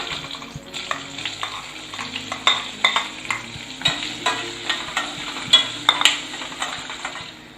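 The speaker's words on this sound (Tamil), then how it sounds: "அடுத்ததா ஒரு 200 கிராம் சின்ன வெங்காயத்தை இந்த மாதிரி கட் பண்ணிட்டு சேர்த்துக்கலாம்." Small shallots frying and sizzling in oil with fennel seeds and curry leaves for a mutton kuzhambu, with a steady crackle, repeated spoon stirs and scrapes against the pan, and nobody talking.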